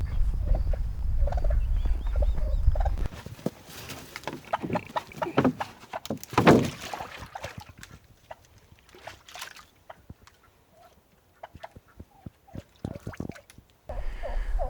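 Narragansett turkeys gobble on a farm in repeated bursts, some close and loud, others fainter and farther off, with quieter gaps and soft scratchy noises between calls.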